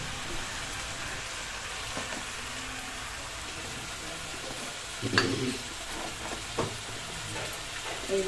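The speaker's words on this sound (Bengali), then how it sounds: "আমরা এখন এখানটা বেগুনটা খুব সুন্দর করে নাড়িয়ে চাড়িয়ে নিচ্ছি যাতে তেল মশলা হলুদ লবণ যাতে খুব সুন্দরভাবে এখানটা চারি সাইডে লেগে যায়" Eggplant sizzles steadily in hot oil with turmeric, salt and spices while being stirred, a constant low frying hiss broken by a few louder scraping stirs near the end.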